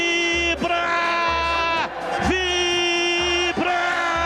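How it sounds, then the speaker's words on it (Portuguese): Football stadium crowd at a Guarani versus Vasco match roaring after a goal, a loud, sustained, tonal chant-like swell that rises and falls in long waves. "A torcida vibra"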